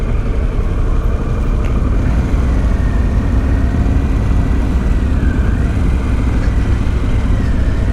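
A 2023 Harley-Davidson Pan America motorcycle on the move, its engine rumble and wind roar steady and loud throughout with no voices.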